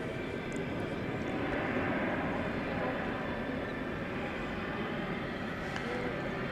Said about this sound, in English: Oh, I hear an Airbus A220.